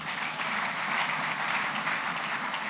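A church congregation applauds in a Sunday service, steady dense clapping filling the whole stretch at an even, fairly loud level with no pauses.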